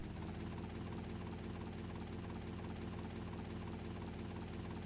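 Steady helicopter rotor and engine drone in the video game GTA Vice City, a loud, close, unbroken whirring hum with a rapid regular pulse and no talk.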